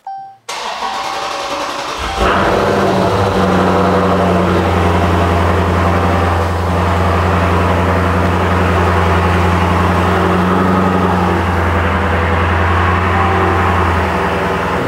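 A Dodge Challenger engine cranks briefly, catches and settles into a loud, steady idle with a deep low rumble that runs on unbroken to the end.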